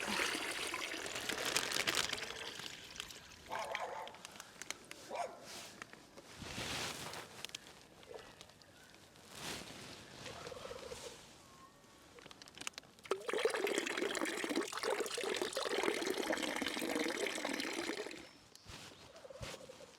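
Water is poured into a container of tadpoles, giving bursts of splashing and trickling that come and go, with a longer steady pour toward the end.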